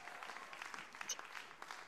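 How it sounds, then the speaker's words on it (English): Audience applause at an art museum event, a soft, steady patter of many hands clapping that carries on faintly for the whole stretch without a break. "Can we please have applause for that?"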